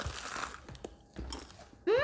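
Several crisp crunches from biting into crunchy fried Jollibee food, close and fairly quiet, then a sudden louder squeaky noise at the end.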